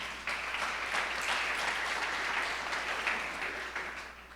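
Steady applause from a church conference crowd fills the room for several seconds, dense and sustained, with no talking over it.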